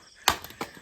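A single sharp, close chop of firewood being split outdoors in the Shan State hills, followed by a couple of fainter knocks.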